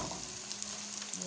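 Light sizzling of ingredients being gently sautéed in a pan for masala rice, a steady close frying hiss with faint stirring, no talk.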